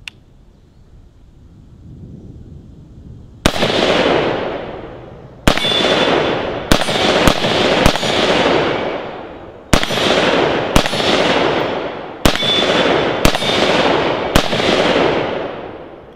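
Gunshots from a Beretta ARX 100 rifle at an outdoor range, about ten sharp loud reports fired singly at irregular intervals, each followed by a long rolling echo.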